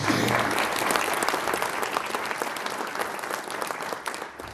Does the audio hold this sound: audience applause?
yes